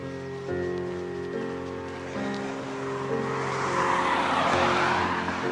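Cars pass along a road beside the Gordon Head coastal greenway, a faint hum building into a broad tire-and-wind whoosh as traffic sweeps by close at hand.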